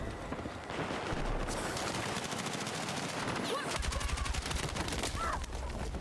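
Rapid automatic gunfire from teammates rattles in dense, sustained bursts in Battlefield 6 multiplayer, loud and close with brief pauses between volleys.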